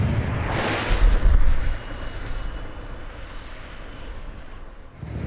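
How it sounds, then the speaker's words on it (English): Ferrari Testa Rossa J electric prototype race car driving on a track, a steady loud rushing whine and wind roar that swells early then settles into a constant hum, with no talking. "I'm driving a racing Ferrari."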